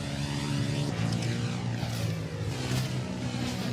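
A helicopter flies in a video game, its steady engine drone and rotor throb sustained and fairly loud throughout, with no talk over it.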